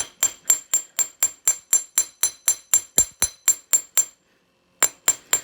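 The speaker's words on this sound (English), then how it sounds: "give it a couple whacks to straighten it out with the beveled side of your chasing hammer" Quick, steady metallic taps of the beveled side of a chasing hammer on copper wire, about fourteen sharp ringing strikes in a row, a brief pause, then a few more.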